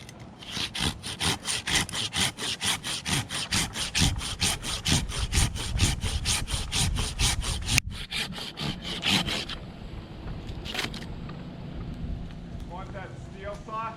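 A hand saw rasps through ash wood in quick, regular back-and-forth strokes, then the sawing slows and breaks off while a voice speaks at the end.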